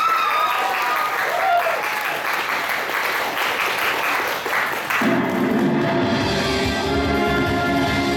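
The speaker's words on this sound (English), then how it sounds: "Come on, give her an applause, guys." Audience applause greets a contestant at an anime convention's Who Wants to be a Millionaire game show, a dense steady clapping from the crowd that continues throughout, with some muffled thumps and a change in texture partway through.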